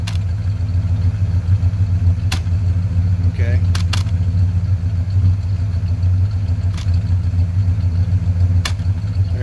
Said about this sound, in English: That slap, that's the sticky exhaust valve.